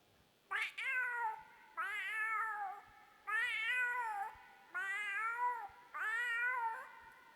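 A voice imitates a cat at a school annual day stage show, giving five drawn-out, loud meows in an even rhythm with short pauses between them.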